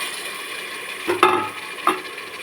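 Masala with coriander and mint leaves sautés in a pan for mutton biryani. A low steady sizzle carries two distinct clinking spatula strokes near the middle, fairly close.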